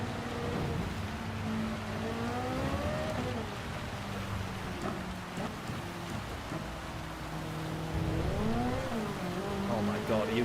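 A Ferrari race car engine in Gran Turismo drones and shifts pitch on a wet Red Bull Ring lap, with a steady hiss of rain underneath and faint voices mixed in.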